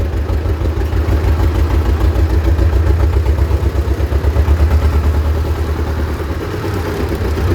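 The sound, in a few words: T16m tractor engine running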